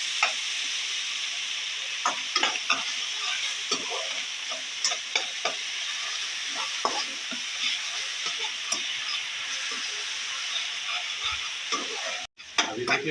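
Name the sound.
onions frying and being stirred in a pan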